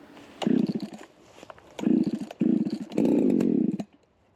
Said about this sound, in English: take the chainsaw, cut it up